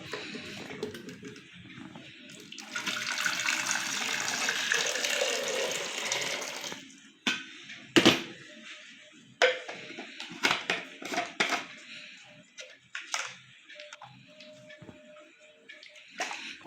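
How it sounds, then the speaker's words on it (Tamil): Water is poured steadily into a Milton airtight kitchen container for several seconds, then gives way to scattered close splashes, drips and clicks as the container is handled. "இப்போது இதில் தண்ணி கூட ஊற்றி பார்ப்போம்."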